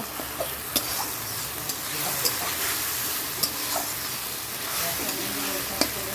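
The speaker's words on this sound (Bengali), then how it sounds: "ভালো করে কষিয়ে নিই" Spiced masala sizzles and is stirred in a pan, a steady frying hiss with scattered spoon scrapes and clicks, close and moderately loud throughout.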